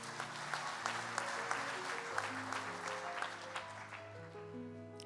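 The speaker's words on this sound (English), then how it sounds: "Join me in giving this year's 5-star individual sponsors another round of applause" Steady audience applause at a Kansas FFA convention session, many hands clapping at a moderate distance, with a sustained musical tone playing underneath and fading toward the end.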